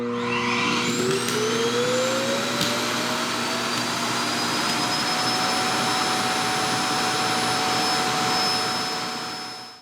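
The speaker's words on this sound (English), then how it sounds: "it's easily the loudest vacuum that exists while it's running" A loud robot vacuum cleaner runs continuously, a roaring whine that rises in pitch like a spinning-up motor and then holds steady for ten seconds before cutting off at the end.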